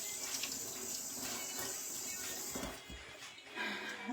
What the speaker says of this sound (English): what I'm gonna do now is I'm gonna wash my hands